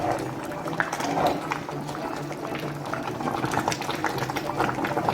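A pot of Louisiana red beans with meat bubbles and simmers steadily, with soft popping and gurgling from thick liquid, close and continuous at a moderate level.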